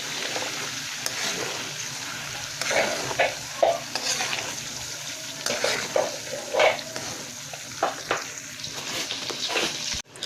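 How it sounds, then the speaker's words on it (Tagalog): Onion sautéing in a pan for a shrimp paste dish, a soft continuous sizzle broken by repeated scraping and stirring strokes of a utensil, close and moderately quiet. "Next naman, itong ating onion. Ayan, typical na gisa lang."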